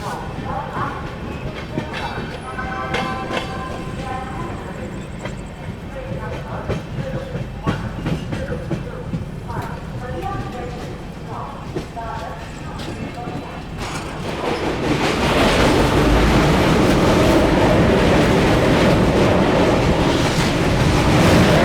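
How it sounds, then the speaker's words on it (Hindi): The Mahabodhi Express pulls out of Prayagraj Junction, a steady rolling rumble with faint clickety-clack that swells into a louder, broadband roar partway through. Voices talk over the start. "चलिए निकल गई है अपनी ट्रेन प्रयागराज जंक्शन से"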